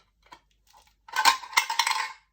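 A lid from a home decor container is handled and pressed onto it: a few faint taps, then a burst of bright clinking and rattling rubs, close and fairly loud, no talking.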